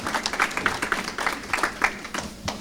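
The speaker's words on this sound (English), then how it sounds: "if you could clap it up for yourself for being here on a Friday evening" Audience applause at an awards evening, steady moderate clapping from a crowd, slightly distant, with no talk over it.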